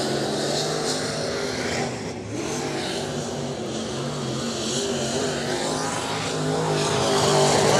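A Pro Modified dirt race car runs a qualifying lap at Macon Speedway. Its engine roars loud and steady throughout, with no talk over it.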